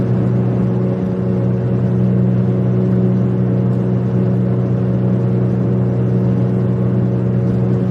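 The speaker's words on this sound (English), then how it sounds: "The exhaust has got like a 6-inch hole in it right on the muffler" A steady, loud low rumbling drone of a pickup truck's exhaust with a holed muffler, idling continuously without pause.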